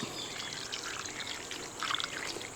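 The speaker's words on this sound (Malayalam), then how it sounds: "നമുക്ക് കുറച്ച് വെള്ളം ഒഴിച്ചു കൊടുക്കണം" A steady trickle of water pouring into a pan of chicken fry, with a slight rise in splashing near the end and no talk.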